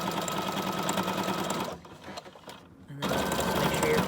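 Sewing machine zigzag-stitching fabric for a junk journal cover, a loud steady motorized whir that drops out briefly mid-clip before resuming at full speed.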